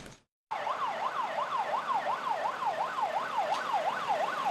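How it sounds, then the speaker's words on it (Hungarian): A fire engine siren wails in a steady rising-and-falling sweep as the truck arrives at a school fire-emergency simulation, loud and continuous after a brief silent gap, with traffic rumble underneath. "Érkezik a tűzoltóautó"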